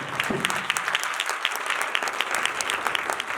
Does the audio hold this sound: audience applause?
yes